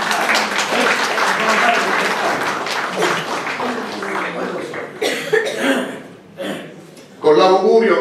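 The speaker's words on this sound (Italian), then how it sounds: "E l'augurio lo dobbiamo fare a loro con un fortissimo applauso" An audience applauds a musical duo at a presentation event. The clapping is loud and sustained, with coughs and voices mixed in, and it swells again near the end.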